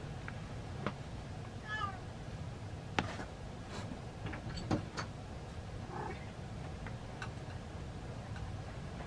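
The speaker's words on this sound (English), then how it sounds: "sounds like the cat wants to come in" A 16-year-old female cat meows to be let in, several faint, scattered cries from somewhere beyond the room, mixed with a few light clicks and ticks against quiet indoor background.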